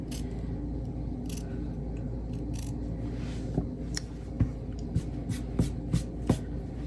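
Scissors snip a small piece of paper in a series of crisp, quiet cuts, the short clips spaced irregularly toward the end over a low, steady room hum.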